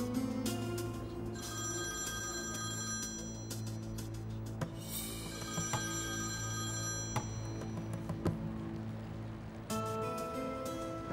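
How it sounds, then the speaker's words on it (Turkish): A telephone rings indoors in repeated bursts of bell tones separated by short gaps, fairly quiet and with no voices over it. "Toprak, niye arıyor bu adam seni?"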